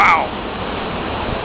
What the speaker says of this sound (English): Look at all the water in the waterfall, man.